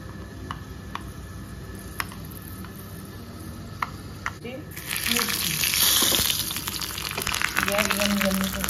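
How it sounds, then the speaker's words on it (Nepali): Fenugreek seeds dropped into hot oil for a Nepali tempering, quiet ticks and taps, then a sudden loud burst of sizzling frying that keeps crackling steadily, with a voice speaking over it. "यहाँ तेल गरम भएपछि अलिकति मेथीको दाना हाल्ने।"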